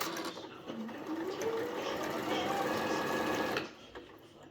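An Elna Excellence 680+ sewing machine is run with its foot controller, stitching in a fast steady whir that rises in pitch as it speeds up, then stops abruptly.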